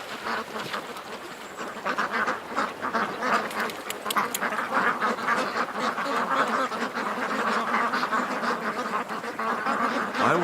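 Ducks quack frantically in alarm as something chases them, a dense, continuous flurry of loud overlapping calls with a few honks mixed in.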